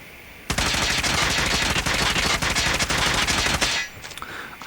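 Rapid automatic fire from an AGR 556 rifle fired from the hip in a video game, a dense, loud burst of shots lasting about three seconds before cutting off.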